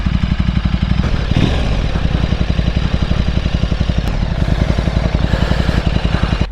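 A stock KTM RC8 motorcycle engine pulses in a fast, even throb, heard from the rider's position with a steady wash of wind noise over it.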